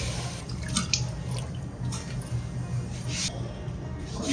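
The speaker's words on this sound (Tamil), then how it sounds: "கொஞ்சமாக தண்ணி விட்டுக்கலாம்" A little water drips and trickles over tapioca root in a pressure cooker while cooking a Kerala-style dish, soft and close over a steady low hum, with a few brief splashes.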